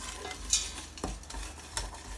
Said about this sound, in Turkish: Arada bir tahta kaşık yardımıyla karıştırın.